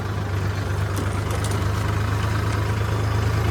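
A Mahindra Yuvo Tech Plus 405 tractor engine runs with a steady, deep, droning hum, close and continuous, with no talking.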